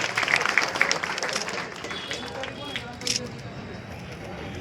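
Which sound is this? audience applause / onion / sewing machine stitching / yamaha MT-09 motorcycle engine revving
audience applause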